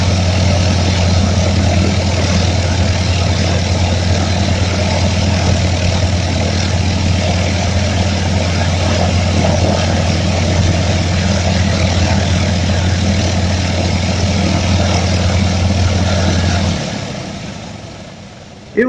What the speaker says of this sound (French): on va faire tourner le moteur fort pour répartir l'huile dans les cylindres